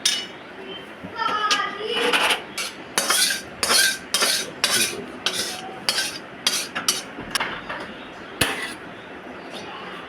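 Spoon scraping and clinking against a pan while vegetarian fig curry is stirred, a run of sharp irregular metallic knocks and scrapes, close and fairly loud, with faint background voices.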